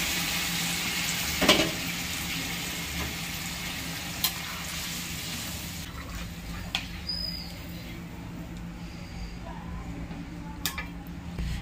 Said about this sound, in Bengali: গরম বসিয়ে দিয়েছিলাম, গরম জলটা ঢেলে দেবো।